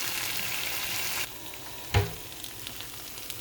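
Meatloaf with onions and barbecue sauce heats in a hot seasoned skillet, a loud close sizzle that drops off abruptly partway, followed by a single clunk and a quieter hiss.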